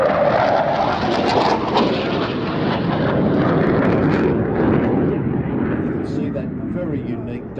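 A delta-wing bomber interceptor jet designed for Mach 1.4 flies past at an air festival, a loud continuous broadband roar that swells and fades steadily, with a voice talking over it throughout.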